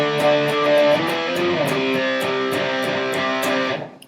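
An electric guitar plays the riff from a song, a mildly distorted, rhythmic strummed pattern of chord changes with crisp repeated attacks, played alone and fading out at the end.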